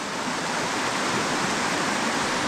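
A mountain stream in the San Bernardino Mountains rushes steadily and close, a dense continuous wash of flowing water with no voices or breaks.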